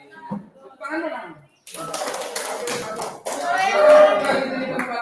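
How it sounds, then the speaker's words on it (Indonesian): Students in a classroom clap their hands together in a dense burst of claps that starts after a short pause, mixed with overlapping voices and chatter. "Tepuk tangan dong."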